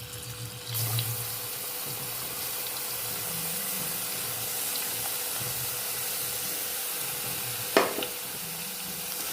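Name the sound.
curry leaves and green chillies frying in a pan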